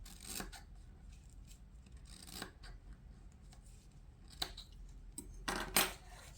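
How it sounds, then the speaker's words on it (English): Scissors cut through one-inch-wide white ribbon in a few crisp snips with soft rustling between them, close and quiet, with no one speaking. "take the ribbon, the 1 inch wide white ribbon, and mark it at 16 inches. Cut it at 16 inches."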